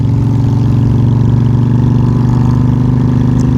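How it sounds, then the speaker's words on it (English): Loud, steady motorcycle engine droning close up while riding along the George Price Highway during a cycling race, a constant low rumble with no talk. "I know this motorcycle is a bit noisy"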